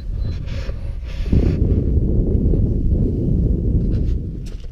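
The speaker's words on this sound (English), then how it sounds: "the wind is blasting at us" Strong wind buffets steadily across a mountain col near Great Gable in the Lake District in winter, a dense low roar that swells and stays loud for several seconds with no voices.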